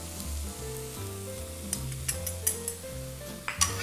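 A roux sizzles in a pan while it is stirred, with salt and pepper added, for a palm heart lasagna. There is steady frying hiss with scattered soft scrapes and clinks of the utensil, close up and with no talking.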